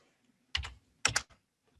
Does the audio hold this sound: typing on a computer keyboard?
yes